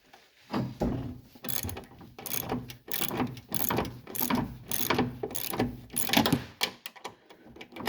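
A regular ratchet wrench works strut bolts on a 2010-2014 Subaru Outback during a lift kit install, producing close, crisp rhythmic clicking bursts in repeated strokes for several seconds.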